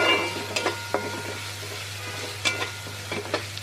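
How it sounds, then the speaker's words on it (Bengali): Taro stems fry in a pan with dried shrimp, garlic, chili powder and cumin, giving a steady sizzle broken by several sharp spatula scrapes and clinks as the mix is stirred. "নাড়াচাড়া করতে সেটা সাউন্ড করছে"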